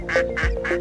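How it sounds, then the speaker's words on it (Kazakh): A single duck quacks three times in quick succession, close and clear, each call a short nasal burst with no other sound around it. "Үйрек барылдайды."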